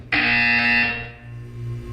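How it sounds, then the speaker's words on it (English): A loud electronic buzzer in Portal 2 blares abruptly, holding a harsh, steady tone for about a second before fading under a low hum. "You will hear a buzzer."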